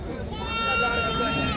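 A goat bleats at a busy livestock market in Rajasthan, a drawn-out wavering cry heard close over crowd chatter and people talking.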